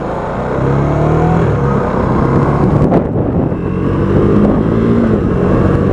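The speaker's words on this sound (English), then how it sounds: "There's the fan cutting in." A KTM RC390 motorcycle idles steadily close by, its low engine rumble overlaid by the broad whoosh of the radiator fan running continuously, with a brief louder surge midway.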